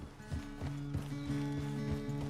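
Horse hooves clip-clop in an even rhythm during easy riding in Red Dead Redemption 2, close and clear over a steady low game tone, with a faint whinny-like texture and no talking.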